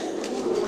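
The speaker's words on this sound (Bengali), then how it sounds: "আমরা এই মুহূর্তে দেখতে পাচ্ছি এখানে চমৎকার এক পেয়ার জ্যাকোবিন কবুতর" A pair of Jacobin pigeons coos briefly nearby, one soft throaty murmur with no speech over it.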